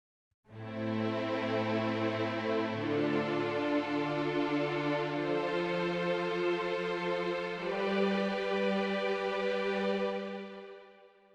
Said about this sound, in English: I've just taken a sustained string patch from CSS here, and I've just played a little 4-chord progression